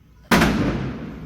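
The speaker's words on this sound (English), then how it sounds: "It's the noise of firecrackers." Firecrackers go off outdoors during Diwali: one sudden, sharp burst with a crackling tail that fades slowly, loud against a quiet background.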